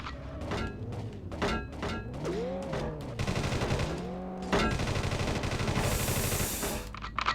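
Gunfire hitting the player's car in a PS1 police chase video game: rapid metallic thunks and shots in quick bursts over engine and siren-like tones, loud and close, without talking.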